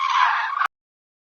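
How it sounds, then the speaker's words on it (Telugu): A crane gives a single loud, sustained honking call lasting just over half a second, which cuts off abruptly into silence. "కొంగ"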